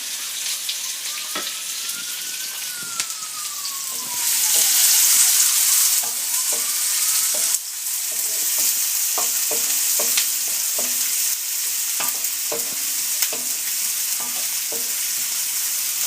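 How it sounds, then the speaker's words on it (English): Onions fry in a pan over medium-high heat, giving a continuous close sizzle with repeated clicks and taps of a utensil stirring through them; no voices. "And fry this till it turns a golden brown."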